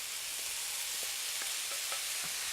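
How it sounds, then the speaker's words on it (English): Leftover brown rice frying in olive oil in a pan gives a steady, hissing sizzle with faint, regular stirring taps, close and even throughout. "And now we'll add the brown rice to the pan."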